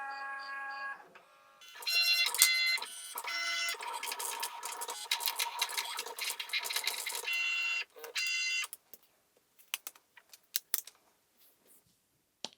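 A Likcut Glee mini smart cutting machine cuts vinyl with a busy whirring of carriage motor moves in short bursts, then stops and gives way to sparse light clicks and handling taps nearby.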